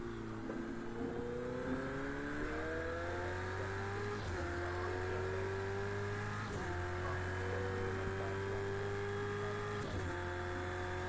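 Corvette and Ferrari race cars in Project Cars 2 multiplayer, engines droning and rising through gears with repeated upshifts and a steady wind and tire roar.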